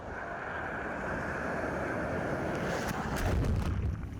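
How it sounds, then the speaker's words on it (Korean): Big waves crash and surge continuously at a pebble beach in Yangyang on Korea's east coast, with a steady roar of surf and wind buffeting the microphone, swelling toward the end. "파도가 어느 정도냐면요."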